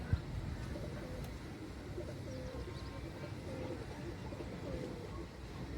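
Soft, repeated cooing of pigeons at moderate distance, kept in shade while being dosed with deworming medicine, over a low background murmur, with faint chirps now and then.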